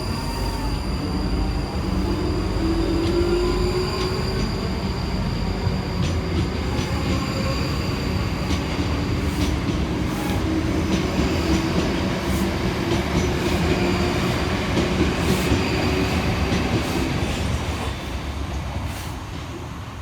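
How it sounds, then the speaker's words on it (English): Paired South Western Railway class 458 electric units 458 428 and 458 410 run on the Waterloo to Reading line. Their loud, steady rumble of passing wheels has rhythmic clicks and faint squealing, and no one talks. "kicking us off will be 458 428 and 458 410, working 1405 South Western Railway service from London Waterloo through to Reading"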